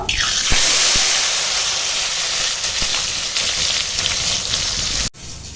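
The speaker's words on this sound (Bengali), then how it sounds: "এখানে চাল কুমড়ো নুন হলুদ মাখিয়ে রেখেছি এখন চাল কুমড়ো ভেজে নেব" Salted, turmeric-coated ash gourd slices frying in hot oil give a loud, steady sizzle with a sharp crackle as they go in, holding constant before cutting off abruptly near the end.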